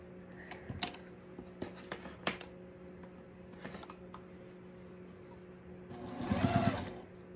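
Sewing machine stitching quilt fabric squares, short bursts of rapid mechanical stitching and clicks with a longer run near the end, fairly quiet and close, with no talking.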